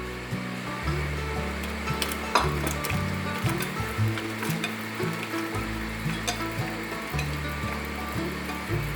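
Luffa gourd hits a hot pan of seasoning with sesame oil and fries in a loud, steady sizzle, with scraping stir strokes on top and a sustained low hum beneath.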